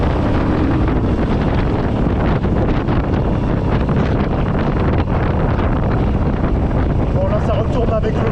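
Strong wind buffeting the microphone outdoors at a freshman football game in Basking Ridge, New Jersey, a loud constant roar with no letup across the whole clip.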